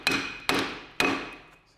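A small hammer strikes a worn Peugeot 206 front brake disc three times at an even pace. Each blow lands as a bright metallic clank with a short ringing tail, close and clear, with no talk over it.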